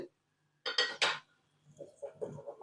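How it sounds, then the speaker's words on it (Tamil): A metal kadai pan is lifted and set down in a kitchen, giving a couple of close, bright metallic clanks followed by softer knocks and rattles. "கடாய் எடுத்து வச்சுட்டு"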